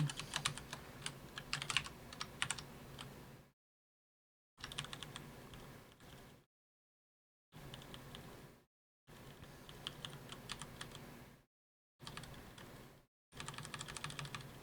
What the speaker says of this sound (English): Clickety clackety. It's a pretty good clickety, I think.